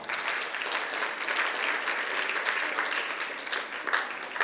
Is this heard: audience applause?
yes